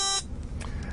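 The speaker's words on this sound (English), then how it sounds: "I have a homebrew thing here with some batteries and a little buzzer" Buzzer of a homebrew continuity tester built from batteries, a short harmonic electric buzz at the very start that cuts off after a fraction of a second, followed by faint room noise.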